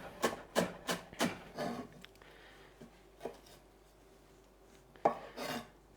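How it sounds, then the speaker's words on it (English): A knife roughly chops the leafy part of cilantro on a cutting board, a quick run of crisp, close chops followed by a few scattered strokes, fairly quiet with no talk. "I'm going to start by just roughly chopping the leafy part all the way down"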